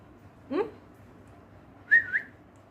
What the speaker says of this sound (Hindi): सीटी बजाओ, सीटी।